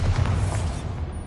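Bombarda explosion spell in Hogwarts Legacy on PS5, a heavy booming blast loudest at the start and rolling off into a fading rumble, with no talk.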